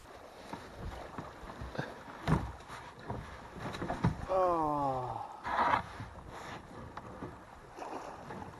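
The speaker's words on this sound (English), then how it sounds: "I'm going to paddle across this way and go out into the main body of the lake" A kayak is paddled on a lake among slot canyons, with soft paddle swishes and water splashes against light wind noise. A short vocal sound breaks in partway through.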